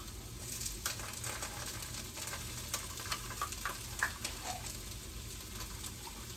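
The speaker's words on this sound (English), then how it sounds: "I'm going to give that a stir" Tomato paste stirred into softened peppers frying in a pan for spaghetti meat sauce, a steady close sizzle with soft irregular scraping strokes and small clicks throughout, no voices.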